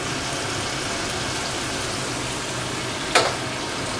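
Mashed potato and pointed gourd paste frying in a pan, a steady soft sizzle running throughout with a brief sharper clatter near the end.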